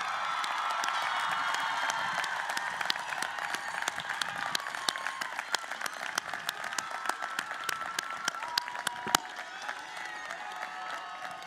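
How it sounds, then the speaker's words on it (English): A commencement audience applauds new bachelor's degree graduates with dense, sustained clapping from a large crowd. Scattered sharper claps and faint cheers rise through it, and it holds loud throughout. "I invite all of you of the bachelor's degree to move your tassels to the left as we applaud your outstanding efforts"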